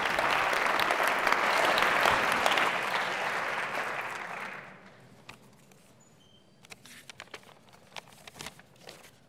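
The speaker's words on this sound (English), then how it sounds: "You can give him a hand of applause." Audience at a university lecture claps to welcome a professor onto the stage, a full round of applause that fades out after about five seconds, leaving scattered taps, rustling and footsteps.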